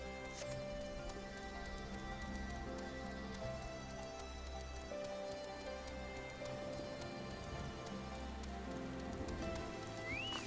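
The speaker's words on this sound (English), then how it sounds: "It's weird seeing it rain here." Steady rain falls in Final Fantasy XIV Stormblood, a continuous soft hiss of drops on surfaces mixed with the game's music and ambience, with no talk over it.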